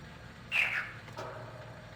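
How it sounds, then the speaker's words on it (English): A small frog in the game Riven gives a bright, brief chirp, followed a moment later by a softer second call, over a quiet ambient background. "It was a little frog."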